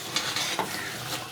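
Beef trotters (paya), after about two hours of cooking, sizzle and fry in a pot over a raised flame while being stirred, with a steady hiss broken by scraping strokes of the spoon.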